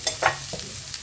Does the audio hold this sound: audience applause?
no